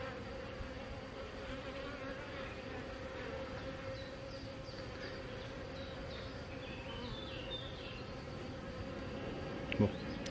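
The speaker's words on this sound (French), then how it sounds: "Non, c'est une abeille, ça." Honeybees buzz steadily at a hive, a dense continuous drone with individual bees whining past close by, one brief louder thump near the end.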